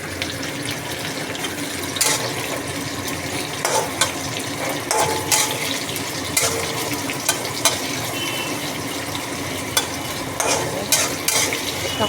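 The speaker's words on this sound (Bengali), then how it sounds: "খুন্তিটা কোথাও পেঁয়াজ কুচি দিয়ে একটু নাড়াবো।" Chopped onions stirred with a spatula in a frying pan, a steady close sizzle with intermittent scraping strokes and clanks across the length, no voices.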